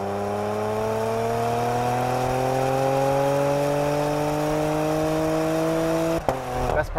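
A 2018 Porsche Macan GTS SUV launches hard under launch control, its engine note climbing steadily and loudly through the revs before a sharp, abrupt gear shift near the end.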